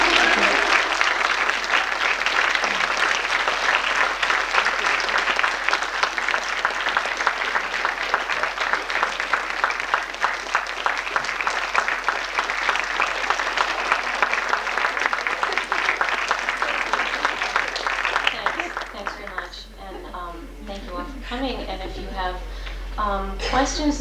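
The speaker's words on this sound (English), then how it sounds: "Okay, please clap now." Enthusiastic audience applause follows a poetry reading, a loud sustained roar of clapping for nearly twenty seconds that then tapers off as a voice begins speaking near the end.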